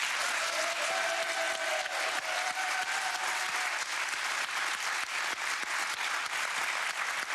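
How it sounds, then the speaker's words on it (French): Studio audience applause on a French TV game show, a steady, dense wash of clapping hands that continues evenly throughout without a break. "On peut les applaudir."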